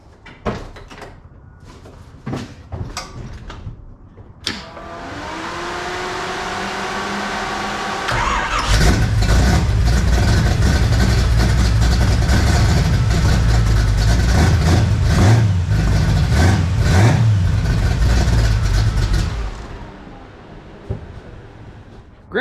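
C3 Corvette engine with an abused engine mount, heard after a few clicks and knocks: the starter cranks, the engine catches and settles into a loud, steady, slightly rough idle for about ten seconds before shutting off.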